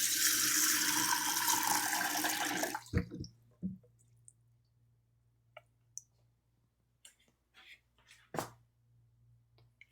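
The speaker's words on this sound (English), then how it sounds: "I am going to soak this tapioca in water" Water pours steadily into a container of tapioca for nearly three seconds, then stops. A few light clicks and small knocks of handling follow in a quiet kitchen, with one louder clatter near the end.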